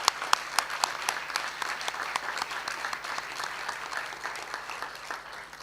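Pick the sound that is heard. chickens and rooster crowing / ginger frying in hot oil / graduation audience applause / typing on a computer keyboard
graduation audience applause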